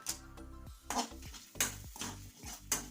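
Curry leaves and dried chillies stirred in a pan for a stingray fish curry: a spoon scrapes and clinks against the pan in repeated strokes, close and fairly quiet, no talk.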